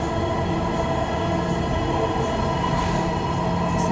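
Dhaka metro rail train running, a steady loud rumble and hum of wheels and motors that holds constant throughout, with no talk.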